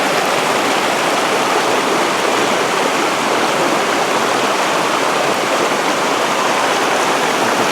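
A rushing mountain stream at a trail water crossing in the White Mountains gives a steady, loud, close wash of flowing water for the whole stretch, with no voices.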